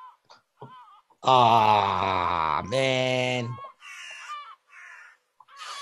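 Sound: seagull calling in a played video

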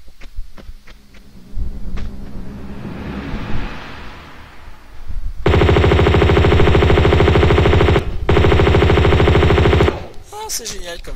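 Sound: gunfire from a gun in video game Tomb Raider 2

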